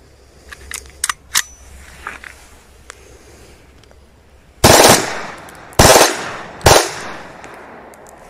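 A Mitra blank-firing pistol goes off in three loud, sharp bangs spaced about a second apart, each trailing into a brief echo, after some quieter mechanical clicks and handling noises.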